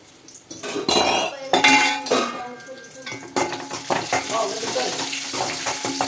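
Manathakkali greens being mashed with tamarind water in a pot, a busy stretch of loud metal clatter, stirring and scraping of a masher or spoon against the vessel, with a brief wet splash.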